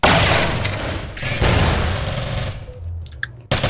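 A grenade goes off in an online shooter match with a heavy, loud blast and a rumbling tail, followed by a second burst and scattered gunfire and clatter before a final sharp crack, with no speech.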